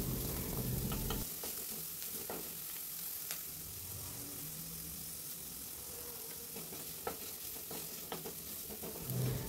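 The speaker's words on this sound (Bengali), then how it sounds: "সেই পেঁয়াজ কুচিটা দিয়ে ভেজে নিচ্ছি" Chopped onion and carrot fry in a pan with a continuous close sizzle and hiss, punctuated by occasional scraping strokes of a spatula as the vegetables are moved, no voices present.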